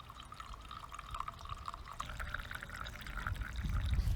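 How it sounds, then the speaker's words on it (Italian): Boiling water runs from the tap of an original Tula samovar into a tea carafe, a steady close pouring stream that swells louder and fuller toward the end as the carafe fills. "Adesso andremo a riempire appunto la caraffa di tè, quindi via col rubinetto."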